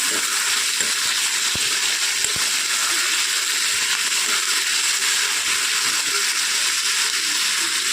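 Potatoes frying in a pan for poha give a steady, even hiss that runs unbroken and fairly close throughout, with a few faint clicks and taps mixed in.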